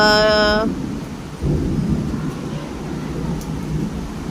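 A deep rumble of thunder rolls through steady heavy rain, following a short harmonic tone at the start.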